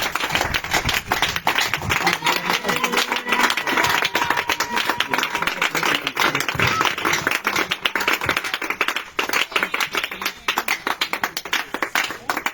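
A church congregation at a night prayer and spiritual warfare gathering in Grand-Bassam applauds continuously, dense loud clapping sustained throughout with voices mixed underneath.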